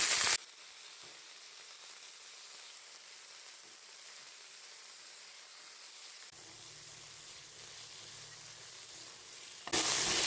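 Drumstick leaves fry in a hot tempering of oil and spices, making a steady, close sizzling hiss that runs without a break. A low hum joins partway through.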